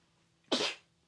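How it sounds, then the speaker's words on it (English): A single sharp sneeze bursts out close and fairly loud, then fades quickly into a quiet room. "I'm gonna sneeze."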